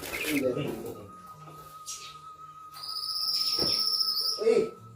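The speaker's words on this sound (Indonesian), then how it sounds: "Baru dipindahin gini aja udah bunyi. Kayaknya banget senang ini burung mau masuk ke sini." A caged bird calls in short bright chirps after its cage is moved, near and fairly loud, with people talking over and around it.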